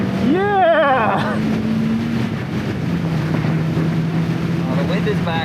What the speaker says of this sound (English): Oh, the wind is back.